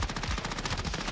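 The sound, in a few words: gunfire in the video game Warzone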